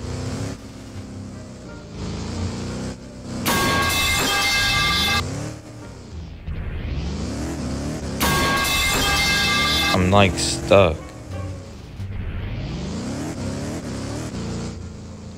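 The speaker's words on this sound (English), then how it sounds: "Because I can hear my car." Car engine hum while driving blindfolded in Liberty County, steady and loud throughout with two brief louder bursts and a short sharp sound near the end, under occasional talking.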